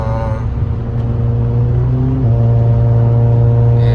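A car engine idles and revs steadily to warm up, with a low continuous rumble that rises in pitch partway through and holds, close and loud, with no talking.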